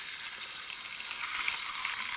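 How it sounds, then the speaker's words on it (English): Water and air hiss out of the drain on an air compressor tank in a workshop, a steady bright spraying rush that stays loud throughout with no talking. "Let's see how much air or water we've got out of it."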